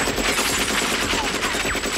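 Gunfire from an action film, with rapid, dense bursts like automatic weapons crackling continuously at a steady loud level and no voices.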